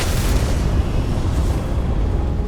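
A spaceship blows up in the Starfield video game, a dense, loud rumbling explosion that roars continuously from start to end without a break.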